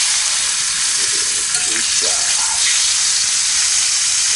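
Steady loud sizzling and crackling of T-bone steak searing in a hot cast iron pan, continuous hiss throughout with small pops, no talking.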